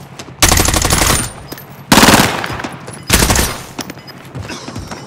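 Three loud bursts of automatic gunfire in Call of Duty: Modern Warfare, each about a second long, with quieter scattered shots and game noise between them.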